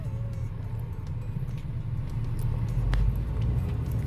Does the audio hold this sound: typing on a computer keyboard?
no